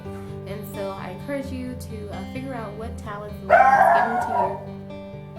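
Someone speaks steadily while a dog in the house lets out a short burst of barking partway through, rising briefly over her voice.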